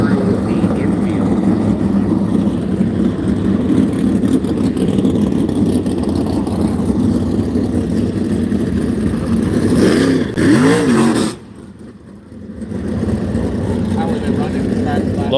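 360 sprint car engines race around South Texas Speedway, a dense, loud, continuous roar with rising and falling revs as cars pass, briefly dropping away near the end before building again, with an announcer talking over it.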